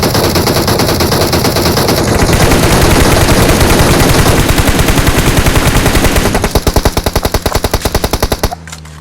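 Rapid automatic gunfire in PUBG Mobile, loud sustained bursts of closely spaced shots lasting several seconds, slowing into distinct single shots near the end.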